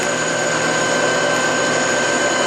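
A Harrison M300 metal lathe runs continuously while machining a workpiece, a loud steady mechanical whine and hum with no breaks.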